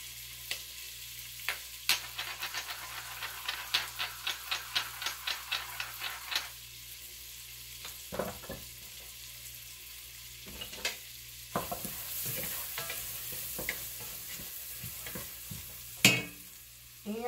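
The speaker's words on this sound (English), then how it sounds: "my butter's melted, so now I'm gonna add an onion" Purple onion in melted butter sizzles softly while a utensil stirs and taps against the pan, a quick run of rhythmic clicks followed by scattered scrapes, close and quiet, with no voices.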